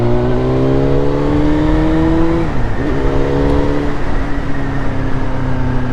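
A motorcycle on the motorway near Frankfurt, Germany, runs on cold tires. Its engine drones loud and close with steady rising harmonics, dips briefly as though shifting gear, then climbs again, with wind rush underneath and no talking.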